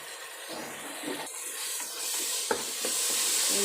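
Ginger, garlic and onion paste fries in oil in a pan for soybean veg biryani, giving a steady close sizzle and hiss with a few stirring scrapes and a small clink, and no voices.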